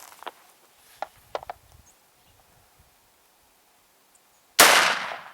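A single loud shotgun blast from a shell fired through a Short Lane adapter, like shooting from a 3-inch barrel, booming sharply near the end after a few quiet clicks and handling noises.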